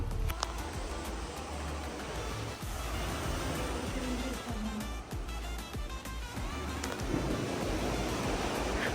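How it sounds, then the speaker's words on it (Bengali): Rough sea waves heard from a hotel room in Albania, a faint, continuous wash of surf with broad rumbling noise and some wind, steady and distant, with no talking. "আমরা রুমে ঢুকতেই সমুদ্রের অশান্ত ঢেউয়ের শব্দ আমাদের কানে ভেসে আসলো।"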